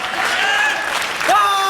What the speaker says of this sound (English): The crowd's getting behind him here as he's back to his feet.